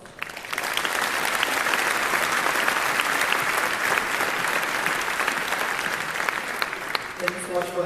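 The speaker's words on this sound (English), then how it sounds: "So please, let's give Mike Sperber a great applause for his talk, How to Teach Programming to Our Loved Ones." An audience at a programming talk breaks into sustained applause, a dense, loud wash of clapping that swells quickly and holds steady before tapering slightly at the end.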